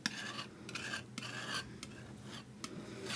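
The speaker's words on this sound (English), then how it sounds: "I'm going to mix it a little bit better so I have a little bit better control on that color." Palette knife mixing acrylic paint on a palette, rhythmic raspy scraping and smearing strokes, close and fairly quiet.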